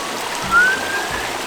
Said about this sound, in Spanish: Observen esto, de ahí sale el agua.